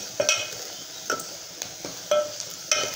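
A spoon stirs soybean masala in a pan, giving soft repeated scrapes and clinks at an uneven rhythm over a faint sizzle, close and fairly quiet, with no talking.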